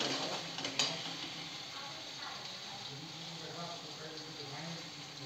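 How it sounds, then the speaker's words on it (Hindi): Spices roasting in hot oil in a pan for a vegetable sabji give a steady, close sizzle with soft stirring scrapes and a sharper clink near the start. "मसाले को हम अच्छे तरीके से भूनेंगे।"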